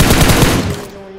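A short, loud burst of rapid gunfire erupts in a shooter video game and trails off within about a second.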